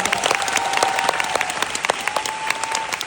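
An audience at a fan concert applauds steadily and fairly loudly. The dense, even clapping fills the hall, with a faint sustained tone underneath.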